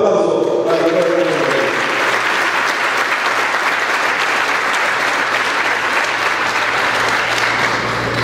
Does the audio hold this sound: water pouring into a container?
no